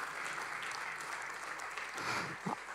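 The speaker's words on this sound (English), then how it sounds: "I thought that deserved a round of applause as well" A church congregation applauds for a few seconds, a steady, fairly loud wash of clapping hands that swells slightly near the end.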